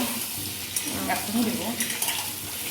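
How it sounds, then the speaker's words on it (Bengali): Potatoes frying in a pan with salt and turmeric, a soft close sizzle with light stirring clatter across a brief stretch, faint background voices mixed in. "একদিকে খিচুড়ি হচ্ছে আর আরেকদিকে মা আলুগুলোকে ভেজে নিচ্ছে"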